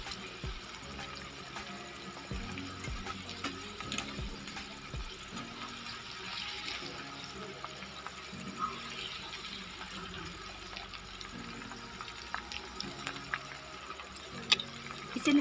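Okra (bhindi) frying in oil in an open pan, a low continuous bubbling sizzle with faint irregular crackles, steady and fairly quiet throughout, with no voices.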